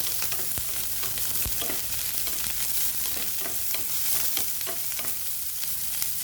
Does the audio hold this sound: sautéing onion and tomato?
yes